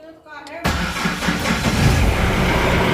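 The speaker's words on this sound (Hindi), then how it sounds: "अब जैसे ही मैं ये सेल्फ करने की कोशिश करूँगा, गाड़ी को स्टार्ट करूँगा" A Mahindra SUV engine, a Scorpio or Bolero with central locking, is started with the self-starter: a short click and whirr, then the engine catches abruptly and settles into a loud, steady idle close by.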